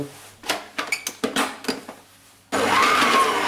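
A stand mixer kneads brioche dough with butter, first with a series of rhythmic thumps and clanks, then switches to a loud, steady motor whir for the final second, with no voices.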